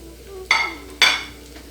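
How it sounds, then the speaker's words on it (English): Mushrooms, bell peppers and onions sautéing in a hot pan, two sharp bursts of sizzle and scraping half a second apart, each fading quickly over a quiet background. "We need to saute a little bit."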